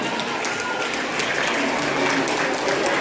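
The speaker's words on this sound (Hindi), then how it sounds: "जोरदार तालियों से सबका अभिनंदन" Dense, continuous applause fills a school gathering at a bicycle distribution program, a crowd of many hands clapping steadily and loudly throughout.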